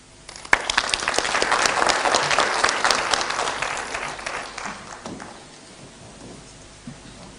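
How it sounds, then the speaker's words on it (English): Sustained audience applause fills a large hall at a Pan African youth convention in Nairobi after a political address, dense clapping for about five seconds before thinning to a softer patter. "Another round of applause for him."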